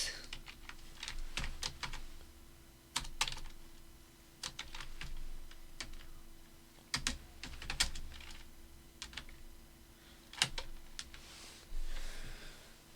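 Computer keyboard typing while text is entered, with bursts of close key clicks in irregular runs separated by short pauses, some keystrokes sharper and louder, over a faint steady hum.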